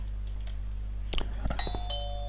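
A doorbell rings with a couple of bright chimes that leave a faint ringing tone, heard over a steady low hum in the video game Uncanny Valley.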